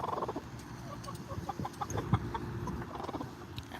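Homestead chickens cluck close by in a garden setting, a steady stream of soft, irregular clucks and murmurs with one brief louder squawk, no talk over them.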